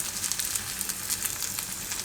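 Vegetable rosti sizzling in oil in a pan over a medium flame, a steady soft crackle with light pops, fairly quiet and uninterrupted.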